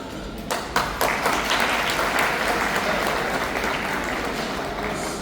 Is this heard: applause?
yes